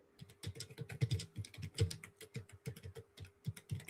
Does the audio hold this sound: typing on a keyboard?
yes